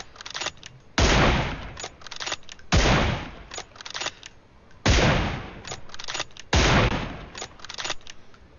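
Sniper rifle in BGMI/PUBG emptying a full seven-round magazine: loud, separate cracking shots at uneven intervals of roughly a second or two, each with a short tail, and no talking.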